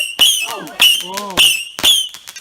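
Bonfire Night fireworks rockets go off in several loud, sharp bursts with high whistling tails, spaced roughly half a second apart, while excited voices talk and exclaim between the bangs.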